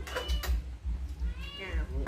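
A cat meows several times in a small indoor space. The calls are short and close, with a low background hum and some soft vocal sounds between them.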